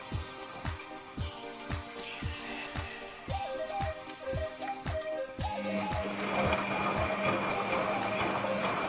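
Samsung front-load washing machine running its EcoDrum self-cleaning cycle without detergent, giving regular close mechanical thumps at a steady beat, a short run of electronic beeps, then a broader whooshing hum of water and motor.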